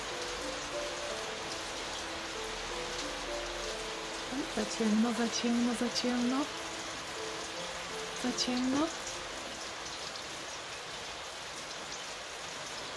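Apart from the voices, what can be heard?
rain drumming on a roof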